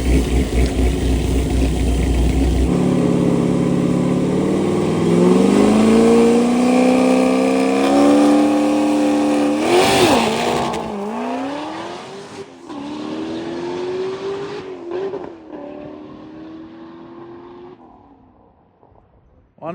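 A daily-driver car at a track launches hard from the line, engine revving up through a gear then dropping as the driver misses a shift, with rising and falling engine pitch, loud and close, fading toward the end.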